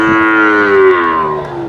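A calf at a busy cattle market lets out one loud, drawn-out moo lasting under two seconds, close by and with no voices over it.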